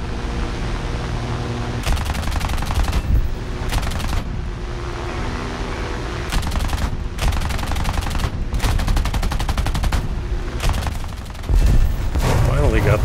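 Repeated bursts of gunfire from a vehicle in War Thunder ground realistic battles, loud and close, firing in several long rattling volleys with short pauses between them over a steady engine and battle rumble.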